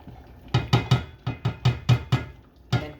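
A spoon clacks against a pot while cream cheese is stirred into simmering spaghetti sauce, making about nine sharp, close knocks in an uneven rhythm with a quiet pause before the last one.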